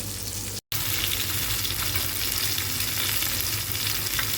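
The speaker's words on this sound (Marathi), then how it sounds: "आता आपण राजा राणी तळूया" Raja rani fish frying in hot oil for a Maharashtrian fish thali, a steady close sizzle with a low hum underneath, broken once by a brief dropout near the start.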